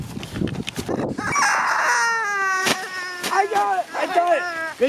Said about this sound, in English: Sorry, Everett, there was just the chicken